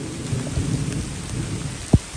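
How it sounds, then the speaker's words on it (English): Steady rain pours during a thunderstorm, a dense hiss of drops hitting surfaces close by, with a short sharp low thump near the end. "I know, dog, it's raining"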